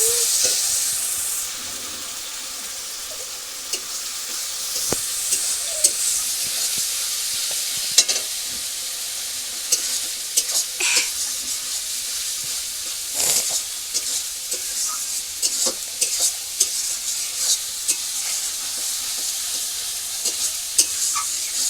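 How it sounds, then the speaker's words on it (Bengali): Chicken masala stir-fries in a pan in a village kitchen, a continuous sizzle and hiss broken by frequent scraping clicks of the spatula, loud and close with no talking. "মশলাটা ভালো করে কষাবো"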